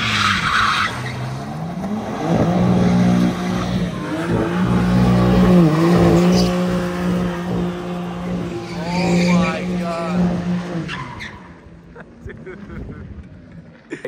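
Brand new BMW M4 CSL drifting, its tires squealing and skidding continuously for about ten seconds with engine drone underneath, loud and close, fading out at the end.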